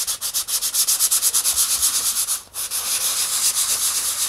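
Medium-grit sandpaper rubs down a raised ridge on a plastic X-15 model kit in quick, steady back-and-forth strokes. The scraping is close and loud, with a brief pause midway, and there is no talk.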